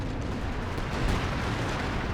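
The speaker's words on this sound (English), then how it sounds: "the artillery's coming down right on the Centaur and Firefly in the north" Artillery barrage in Company of Heroes 2, a dense, rumbling wash of distant booms and blasts rolling together without clear gaps, loud and steady over its short span.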